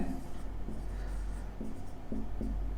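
Chalk or marker strokes on a board during a math and physics lecture: a few short, quiet scratching taps in an irregular rhythm over a low room hum.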